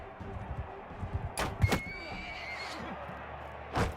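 A horse neighs in the Mount & Blade 2 War Sails video game during combat, a short whinny amid hoof clatter, sharp impacts and steady battle noise.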